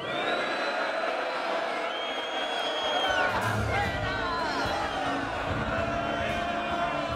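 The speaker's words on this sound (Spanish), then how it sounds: "Y de repente se oyen abucheos en el exterior." A protest crowd booing outside, a sustained wall of many voices with shouts, whoops and long jeering calls rising and falling, with a louder swell near the middle.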